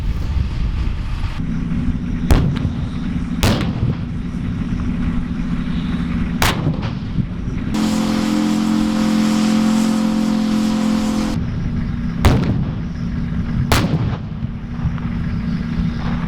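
An armored vehicle fires its gun during a military firing exercise, with sharp loud blasts spaced a few seconds apart over a steady engine rumble that swells into heavy revving midway.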